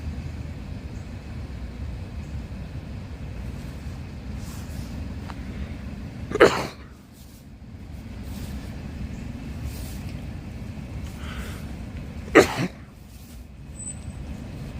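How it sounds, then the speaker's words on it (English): Two sharp, sudden sneezes burst out about six seconds apart, loud and close, over a constant rumble of street traffic and passing vehicles outdoors. "I wasn't sneezing until I came here."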